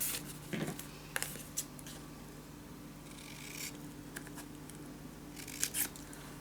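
Scissors cut paper for a Christmas scrapbook mini album, with scattered crisp snips and soft rustling close by over several seconds, some cuts louder than others.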